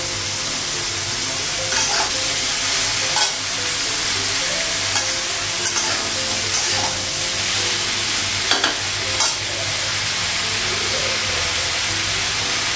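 Ridge gourd frying in a pan, with steady close sizzling and occasional scrapes and clinks of stirring, heard alone.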